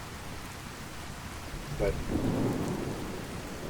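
Steady rain falls with rolling thunder in a Fallout 4 weather mod, a low rumble swelling midway over constant hiss, while a voice speaks briefly.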